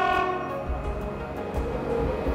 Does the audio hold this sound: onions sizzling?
no